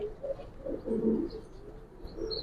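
Silver Pankhi military pigeons coo softly and low, a few close, murmuring calls over a steady background hum, with no talking.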